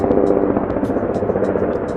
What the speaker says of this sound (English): Oh, helicopter. Right between them.